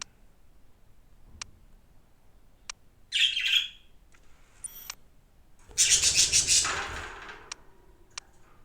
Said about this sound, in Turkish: muhabbet kuşu besliyorum